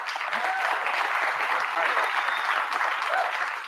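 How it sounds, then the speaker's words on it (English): A crowd at a live awards show applauds steadily, dense continuous clapping holding at an even level throughout. "Let's give them a round of applause."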